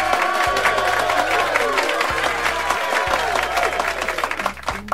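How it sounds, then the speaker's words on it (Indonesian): Applause and cheering from an audience fill the room, steady and dense, with a low hum running underneath. "Ya, tepuk tangan."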